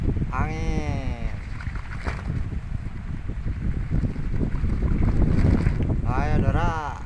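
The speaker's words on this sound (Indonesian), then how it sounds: "Angin." Wind buffets and rumbles against the microphone outdoors in a steady, roaring gust, with a voice and other speech breaking in near the start and end.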